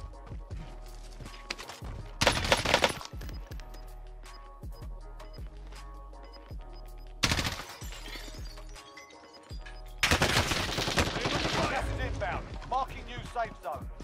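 Gunfire in the video game Call of Duty Warzone comes in loud, close bursts of rapid shots separated by quieter stretches of scattered clicks and game noise, with a long sustained volley near the end.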